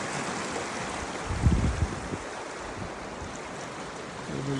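The Trinity River current pulses and rushes through a small lagoon, a soft steady wash of water with a brief louder surge near the middle and some wind noise, no talking.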